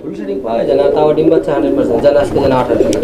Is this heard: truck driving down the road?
no